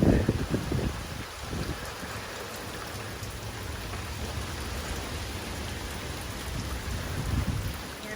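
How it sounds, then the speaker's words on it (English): Steady afternoon rain falls during Hurricane Nicholas as the wind picks up, a constant, even hiss that continues throughout, with a few louder bumps near the start. "you can see we have gotten kind of a steady afternoon rain, and the winds are starting to pick up"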